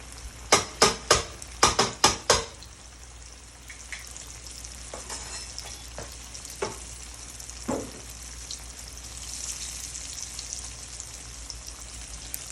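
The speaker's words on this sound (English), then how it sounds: "So as the fish is frying up," Flour-dredged fish frying in hot grease gives a steady low crackling sizzle, opening with a run of sharp clattering knocks before settling into soft continuous frying with occasional faint taps.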